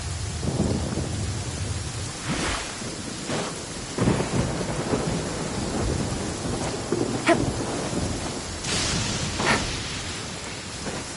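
Rain pours steadily through a Genshin Impact thunderstorm, broken by several rumbling thunderclaps and sharper cracks spread across the stretch, loud and enveloping with no voices.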